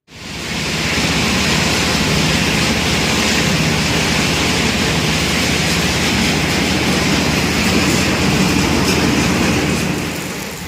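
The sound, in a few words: stone crusher conveyor running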